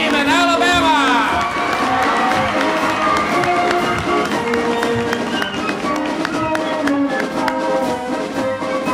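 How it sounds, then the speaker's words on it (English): Austin High School varsity cheerleaders cheer at a Fourth of July parade, a dense, steady wash of crowd noise and cheering with bright tonal band or horn music layered throughout, loud and close. "cheering for the number 2 football team in Alabama"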